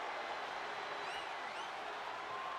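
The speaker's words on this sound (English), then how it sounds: "And do you hear this capacity crowd?" A capacity arena crowd roars in a no-holds-barred WWE 2K25 wrestling match, a loud, dense, unbroken wall of cheering with a few whistles cutting through.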